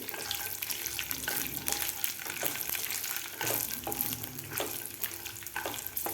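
Peanuts, chili and garlic roast in hot oil, giving a continuous soft sizzle and crackle close by, with light scraping and stirring strokes throughout and no talking.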